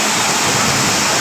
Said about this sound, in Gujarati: એટલો વરસાદ પડી રહ્યો છે